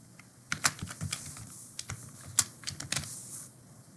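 Password being typed on a computer keyboard: irregular bursts of sharp key clicks with short pauses between them, fairly close and alone, with no talking.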